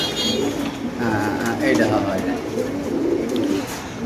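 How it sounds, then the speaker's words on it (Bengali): Racer pigeons at a pigeon market, about five pairs, cooing in low rolling murmurs close by, with someone talking over the birds throughout. "আমরা এখানে আছে পাঁচ জোড়া কবুতর"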